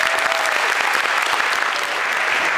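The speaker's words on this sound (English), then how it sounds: "We have a round of applause." An audience at a final debate in Cambridge breaks into a round of applause, dense and steady clapping that fills the room throughout, close and loud with no speech over it.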